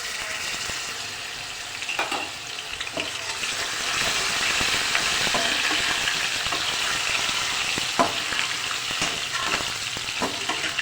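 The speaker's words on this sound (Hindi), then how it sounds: "अब लहसुन अदरक फ्राई करने के बाद" Garlic ginger paste fries in hot oil with a steady crackling sizzle, occasionally stirred, with no talking.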